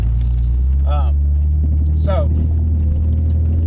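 The G60 engine of a VW Corrado drones steadily from inside the moving car, a loud, low, constant rumble with a sustained hum, while a person talks over it.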